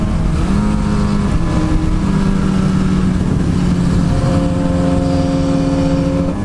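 Harley-Davidson motorcycle cruising on a freeway, a steady loud engine drone with wind rush throughout, the engine pitch holding fairly even with slight shifts midway, no talking.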